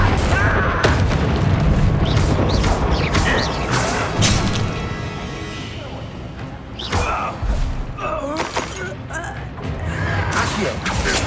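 Booming, crashing spell explosions from the Hogwarts Legacy video game, dense and continuous under loud overlapping shouted incantations and game music.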